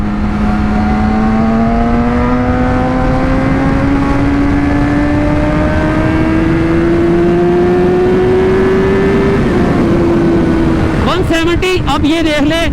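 A Yamaha R6 sport motorcycle accelerates hard in second gear, its loud engine whine rising steadily in pitch for about eleven seconds before the tone breaks up into choppy wind-buffeted noise.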